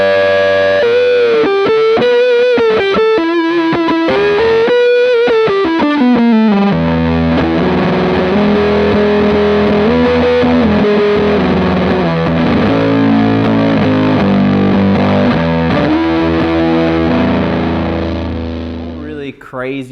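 Electric guitar through a JHS fuzz pedal with a needly fuzz tone, ringing out loud and saturated: a few sliding single-note lines first, then thick sustained chords and riffs that hold steady before trailing off at the end.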